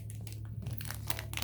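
Plastic packaging around an exfoliating bath cloth crinkles and crackles up close as hands struggle to open it, a steady run of sharp rustles with a low background hum beneath.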